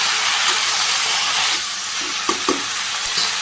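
Leafy greens hit hot oil in a pan and sizzle loudly, a dense steady hiss, close by, with a few stirring knocks and scrapes.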